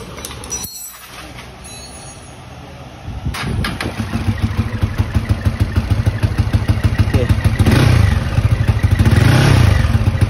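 A Yamaha VF3i motorcycle with an IKK Jet Rod exhaust cranks and fires up after a few seconds of quiet, then settles into a loud, steady, rapid-thumping idle close by.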